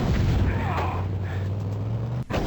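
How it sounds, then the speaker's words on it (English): Explosions in the DOS first-person shooter Terminator: SkyNET, a sustained rumbling low boom that rolls on for a couple of seconds before cutting off sharply, heard alone. "and the explosions are pretty cool."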